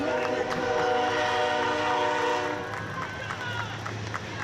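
A train rumbles past nearby with a sustained horn blaring, then the horn fades while the rolling noise continues under distant voices at an outdoor ceremony in Whiting, Indiana.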